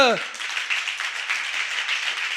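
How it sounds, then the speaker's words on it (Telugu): A church congregation claps during a Sunday service: a dense, continuous patter of many hands striking together, moderately loud and sustained throughout, following a brief vocal sound at the very start. "కొట్టు చప్పట్లు."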